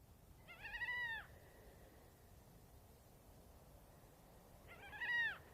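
Two long, wailing gull cries at night in the Atacama Desert, several seconds apart, rise and fall in pitch over a faint hiss of background noise.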